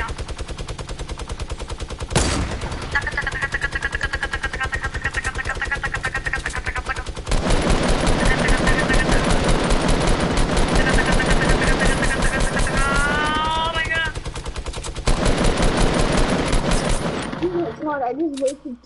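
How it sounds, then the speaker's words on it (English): Sustained, rapid minigun fire from a legendary weapon in a PS4 video game, a dense mechanical roar running in long loud bursts with short pauses between, with faint talk now and then. "I just got a legendary minigun."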